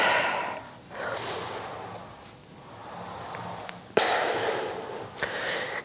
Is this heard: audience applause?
no